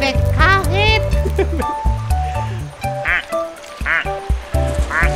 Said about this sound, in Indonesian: Bebek kaget, bebek kaget.